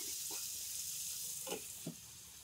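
Vegetables frying in oil with panch phoron and lightly fried onion, a constant bright sizzle broken by three short scraping stirs.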